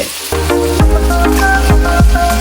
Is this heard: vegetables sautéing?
yes